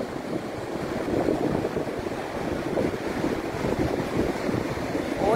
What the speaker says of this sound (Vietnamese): chỗ này sóng to lắm đấy.